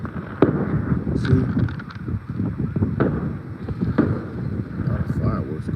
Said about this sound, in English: A lot of fireworks going